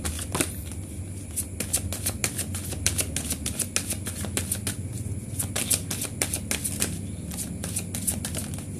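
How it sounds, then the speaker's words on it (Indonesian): Tarot cards being shuffled by hand in a quiet room, a rapid run of crisp riffling clicks and soft slaps repeating steadily throughout, close and alone without talk. "Shuffle kartunya."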